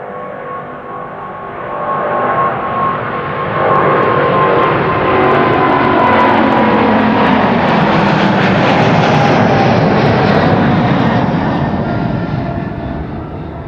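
A KLM Boeing 777-200 jet airliner takes off at Amsterdam Schiphol Airport, its engine roar swelling into a loud, sustained rumble that passes close by and then gradually fades.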